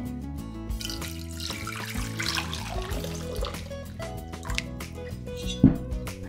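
Water runs into a pot to cover eggs for boiling, a fairly steady pour beneath louder background music.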